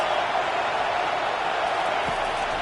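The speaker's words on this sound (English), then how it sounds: "The crowd noise feels louder." A steady, dense roar of a stadium crowd in the college football video game EA College Football 25, loud and unbroken throughout with no distinct individual voices standing out.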